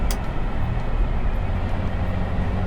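A 1961 Aston Martin DB4 engine drones steadily from inside the cabin just after shifting into fifth-gear overdrive, a low continuous rumble with road noise and no speech.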